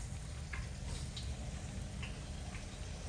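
A whole turkey being lifted out of hot frying oil at around 325 to 350 degrees, sizzling and crackling steadily with occasional sharp pops.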